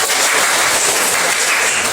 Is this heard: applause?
yes